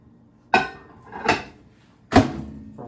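Three sharp clinks of plates and dishware knocking together, spaced apart and close by, with a faint rattle after each.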